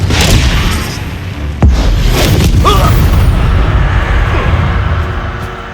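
Confringo explosion spell in Hogwarts Legacy, a sharp, loud blast landing partway through, with a deep booming rumble that lingers and fades over several seconds among battle noise.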